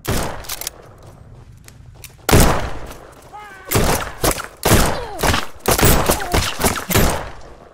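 Gunfight in the video game Lemuria, with sharp shot bursts and thuds arriving in clusters over a low game hum, some volleys loud and close, under faint talk and sound effects.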